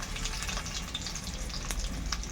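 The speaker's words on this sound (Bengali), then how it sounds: "আলুগুলোকে একটুখানি কষিয়ে নেবো আলুতে একটু লাল লাল রং ধরে গেলে" Potatoes for aloo dum sauté in a hot pan with a steady, dense sizzle and frying crackle running through the whole stretch, fairly close and even in level, with no voices over it.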